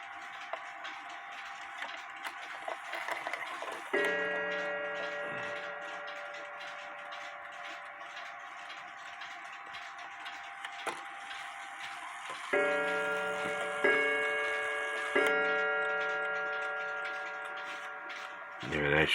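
Smiths mantel clock from 1959, British-made, chiming in bursts of ringing tones as its hands are turned, with ticking and clicks of the mechanism between the chime runs.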